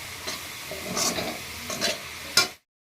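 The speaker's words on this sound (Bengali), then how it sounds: "দিয়ে দিলাম চিকেনটা এটা আবার একটু ভাজা ভাজা হলে আবার ঢেকে দেব" Chicken and taro pieces fry in a pan while being stirred, giving a close sizzle broken by a few scraping stirs, with one sharper clatter just before the sound cuts off.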